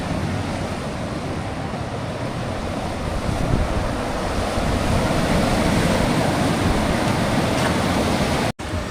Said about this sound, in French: la mer est fâchée aujourd'hui